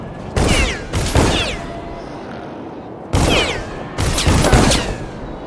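Repeated volleys of enemy arrows loosed in Witches of Brigmore, sharp whooshing bursts arriving in close pairs, loud and near, with quieter gaps between.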